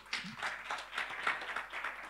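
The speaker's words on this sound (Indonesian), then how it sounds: "Ya udah berikan tepuk tangan kalau begitu." Congregation clapping during a Sunday church service held in a hotel hall, a steady patter of many hands at moderate distance, fairly faint, with a few scattered voices mixed in.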